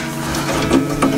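Tuning machine gears on a nylon-string guitar turned to tighten a newly threaded string: a close, steady mechanical whirring and clicking of the gear, alone and fairly loud.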